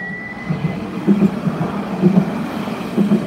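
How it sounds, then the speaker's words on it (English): Nottingham Express Transit tram 225 pulls away from a stop, a steady low rumble with rhythmic wheel thumps and a faint high whine near the start, close and continuous throughout. "Off goes the 1222 Nottingham Express Transit Service to Toton Lane."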